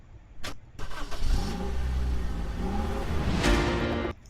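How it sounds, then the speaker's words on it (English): A car engine cranks over with a couple of short clicks, then catches and settles into a steady idle that holds for several seconds before cutting off abruptly. "I only add some like just one car engine starting like sound effect"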